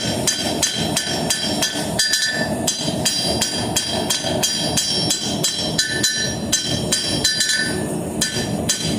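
Rapid, steady hammer blows ring out on a worn blacksmith's anvil with no corners and divots, forging a nail. The strikes are loud and close, repeating with a regular rhythm and bright metallic ringing, and no one speaks.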